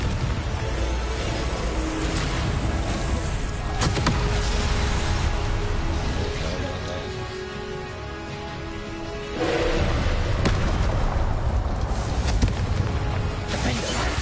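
Confringo explosion spells cast repeatedly in the video game Hogwarts Legacy, a dense, continuous roar of blasts and crashing game effects, loud and sustained throughout with a brief dip midway, with a voice calling out over it.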